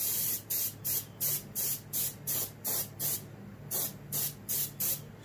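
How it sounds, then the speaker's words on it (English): Airbrush or spray gun applying a medium coat of paint to a muskie taxidermy fish mount, sounding as about eleven short, evenly spaced hissing bursts separated by brief pauses, close and steady with no talking. "Just kind of watch your overspray."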